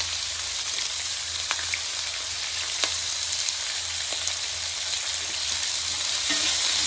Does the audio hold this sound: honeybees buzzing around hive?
no